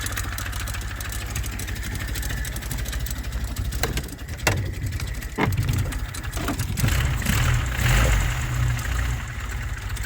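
A motorcycle engine idles steadily nearby, a low continuous rumble with a few sharp clicks and slight rises in revs.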